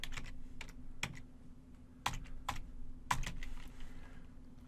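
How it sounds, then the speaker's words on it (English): Someone types a command into a terminal on a computer keyboard: spaced, crisp keystrokes arrive one or two at a time, clear and close over a low constant hum. "in the terminal window, we're going to type in Recon NG"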